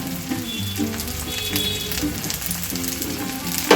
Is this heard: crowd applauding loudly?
no